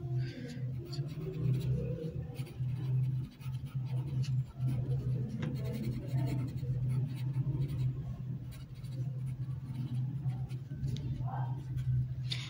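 A math solution is written out by hand, with continuous scratchy writing under steady talk and a low background hum.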